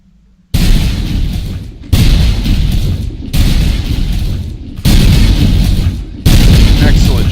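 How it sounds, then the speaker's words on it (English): Cannon fire in a Gettysburg battle video game: four loud, booming blasts spaced roughly a second and a half apart, each followed by a rumbling roar that fades before the next shot. "the loudness of the cannons"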